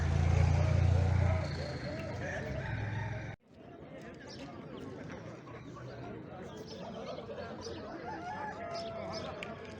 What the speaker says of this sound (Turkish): Bugün Sungurlu Tavuk Pazarındayız.